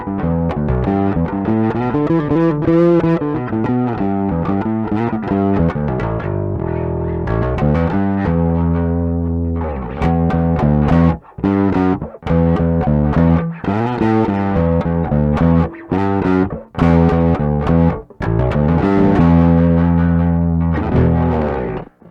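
A 2020 Lakland Skyline 44-64 GZ bass guitar plays a song, with heavy distorted notes and sliding lines carried by a steady riff, loud and close, with brief gaps between some phrases and no talking.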